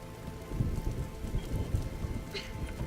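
Steady rain patters during a thunderstorm in the game Vintage Story, with low rumbling thunder rolling underneath, continuous and fairly soft.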